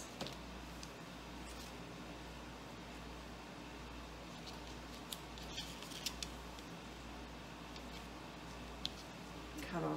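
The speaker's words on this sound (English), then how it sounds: "Cut off a little bit of this." Scissors snip craft material for a swap-and-glue project, giving a few faint, sparse clicks over a steady low room hum.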